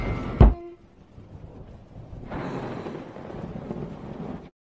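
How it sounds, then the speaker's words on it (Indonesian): A sharp thunder crack is followed by the steady hiss of heavy rain pouring down, with no voices. "Di malam harinya saat hujan turun begitu deras, Lily terlihat sangat takut ketika ia melihat petir."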